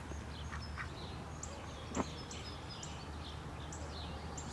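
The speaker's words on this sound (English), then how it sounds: "Quack. Quack." A duck quacks repeatedly in short, nasal calls, some near and some farther off, over a steady low background hum, with one sharper louder call in the middle.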